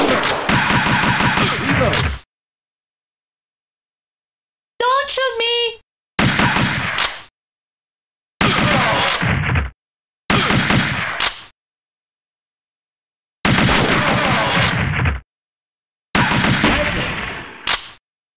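Automatic gunfire in the arcade shooter Virtua Cop: loud, close bursts of rapid shots separated by silent gaps, with a short shouted voice between two bursts.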